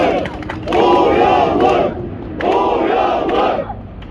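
A crowd at a Korean political campaign press conference gives two loud, swelling bursts of chanting and cheering, each lasting about a second, with a short lull between them and nobody speaking over them.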